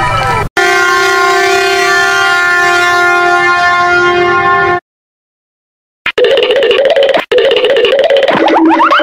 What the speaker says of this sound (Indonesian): Kereta cepat.